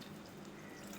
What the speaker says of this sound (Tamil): போட்டு தண்ணி நல்லா வச்சு ஊற்றிக்கிடணும்